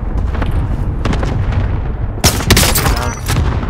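Rifle fire from a Swiss K31 in the video game Call of Duty Warzone sounds as loud, sharp shots. A burst of cracks and booms comes midway, with voices talking throughout.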